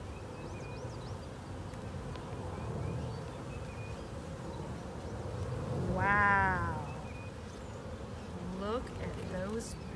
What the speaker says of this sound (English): look at those bees working hard